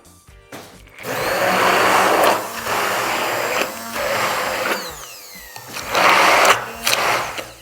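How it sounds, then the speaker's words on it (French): A blender purees eggplant caviar (baba ghanoush) ingredients with thyme in loud, steady whirring bursts that stop briefly between pulses, close up and without talk. "on va tout simplement mixer l'ensemble des ingrédients"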